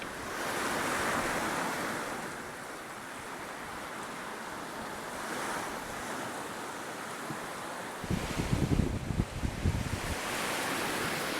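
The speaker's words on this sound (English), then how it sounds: "It's windy out here today" Steady gusting wind roars outdoors, a broad rushing noise that rises and falls, with a brief burst of buffeting against the microphone near the end.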